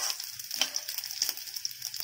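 Onions and eggplant sauté in a pan, giving a steady soft sizzle with faint crackles throughout, close and moderately quiet with no voices.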